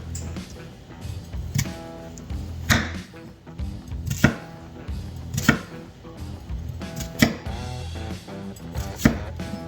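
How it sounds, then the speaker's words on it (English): Onion being finely chopped in a food processor, a close, loud run of sharp blade bursts and pulses that start and stop in irregular spurts over a low motor drone. "I'm gonna go ahead and stick this in a food processor"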